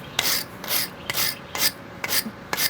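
Rhythmic rasping scrapes on old, badly rusted gate bolts, six steady back-and-forth strokes close up with short pauses between, loud and alone with no talking.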